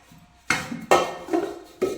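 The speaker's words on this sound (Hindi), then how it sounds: "जो बड़े बर्तन होते हैं जैसे भगोना वगैरह, तो इनके लिए मैं यहाँ रख देती हूँ" Large metal cooking pots such as a bhagona being set down and stacked in a small home kitchen, giving four sharp clanks spaced across two seconds, each ringing briefly before fading, close by with no talk.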